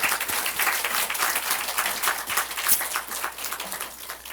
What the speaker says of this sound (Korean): 정말 주께 영광의 박수를 올려드리겠습니다.